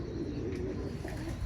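Old desi pigeons coo in a rooftop loft in Sahiwal, a steady low, throaty cooing from several birds close by, with faint chirps in the background.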